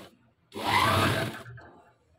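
Sewing machine stitching the sleeve of an umbrella dress, a short steady mechanical whir of about a second that starts abruptly and stops, with quiet room noise before and after.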